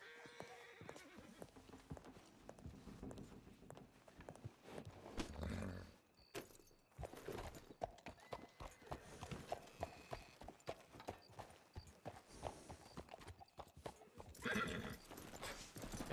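Horses in a Wild West role-play video game set in Blackwater neigh and whinny while hooves clip-clop in irregular bursts, fairly faint and mixed with game noise and occasional voices talking.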